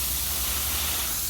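Water spray hisses steadily into a swimming pool, a loud, unbroken, broadband rush of noise from a nearby nozzle.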